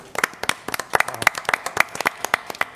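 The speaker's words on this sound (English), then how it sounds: "I assume that's who we're clapping for" Audience applause at a city council meeting, a run of sharp, uneven hand claps from a modest crowd, fairly close and steady for a few seconds with no talking.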